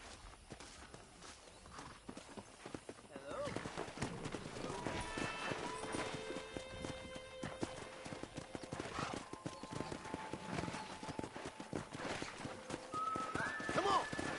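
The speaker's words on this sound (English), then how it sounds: "Let's see if we can't wrangle some horses." Horses in the Red Dead Redemption video game clop along steadily on hooves at moderate volume. A tonal game score plays under the hoofbeats.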